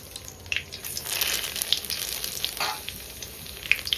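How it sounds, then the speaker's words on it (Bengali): Dried red chillies and bay leaves tempering in hot oil, a soft crackling sizzle with scattered pops and brief flare-ups, fairly quiet and close, with no one speaking. "দিয়ে দিচ্ছি কটা শুকনো লঙ্কা ফোড়ন আর দিচ্ছি তেজপাতা"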